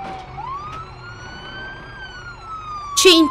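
A police car siren from the BeamNG driving game wails in a rising and falling tone, loud and continuous, ending with a brief burst of harsher noise.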